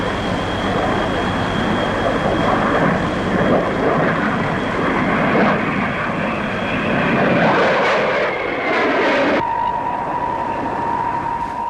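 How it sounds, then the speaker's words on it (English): A Hawker P1052 jet powered by a Rolls-Royce turbojet flies past at an air show, giving a steady, loud broadband roar that holds throughout and shifts in tone near the end as it passes. "One of the very latest, a Hawker P1052 powered by a Rolls-Royce Lean turbojet."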